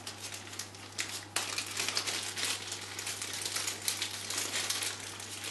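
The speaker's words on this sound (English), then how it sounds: "Let me shuffle the response deck" A deck of response cards for the Perdition's Mouth board game being shuffled by hand, a continuous close papery riffling and rustling with sharper bursts, over a low steady electrical hum.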